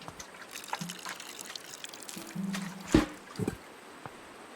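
Water poured on a plant in the video game Botany Manor, a soft trickle with a few brief game tones and a louder splash near the middle, fairly quiet and with no talking.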